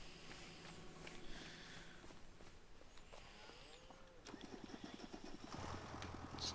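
An upgraded tractor engine in Farming Simulator idles with a steady rumble, then revs into a rapid, rhythmic chugging toward the end, heard up close without talk.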